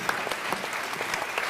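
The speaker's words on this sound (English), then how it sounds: "Ladies and gentlemen, give these ladies a round of applause." Pageant audience applause for the contestants, a brief, steady patter of many hands clapping at moderate volume from across the room.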